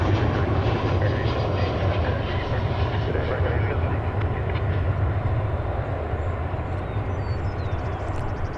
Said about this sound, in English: I spy an Airbus A319 about to land.